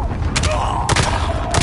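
Loud booms from a cluster strike mixed with gunfire in Call of Duty Warzone, three heavy blasts spaced apart over a constant rumble of battle.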